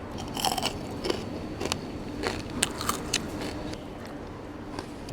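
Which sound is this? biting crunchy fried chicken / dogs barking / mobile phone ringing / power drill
biting crunchy fried chicken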